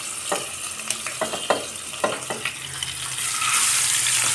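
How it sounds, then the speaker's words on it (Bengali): Tyangra fish fry in hot oil: sharp spatters and pops come first, then a dense, steady sizzle swells and holds close by, with no talking. "তেল গরম হয়ে আসছে, মাছগুলো এখন ভেজে নেব।"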